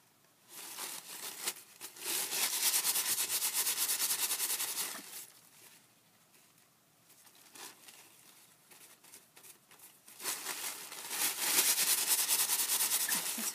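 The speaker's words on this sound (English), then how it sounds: "Going to rub it again, see if there's any more on here." Close, dry rubbing and crinkling as a stubborn stuck backing is worked loose: two long stretches of steady scraping friction separated by a quieter pause.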